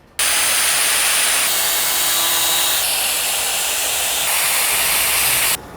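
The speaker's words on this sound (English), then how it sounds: "What I think I'll do is I'll go grab a grinder." Angle grinder cutting metal while fitting recovery points to a Toyota Prado 150 or FJ Cruiser, a loud steady hissing, grinding whine that runs unbroken for about five seconds, close by, with no talk.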